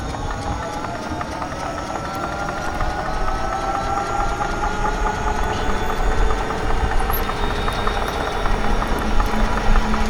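An e-bike hub motor that is failing runs continuously while the bike is being ridden. Its grinding whine stays steady, with broadband rumble from wind and the road underneath it for the whole ride.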